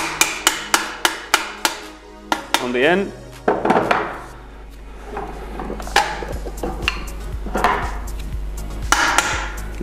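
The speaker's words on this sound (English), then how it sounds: "So you need a rubber hammer." A rubber hammer taps a Polelink suspension part during a bearing replacement, a rapid run of about eight sharp knocks followed by scattered single hits and clatter, close and loud, with a voice speaking briefly.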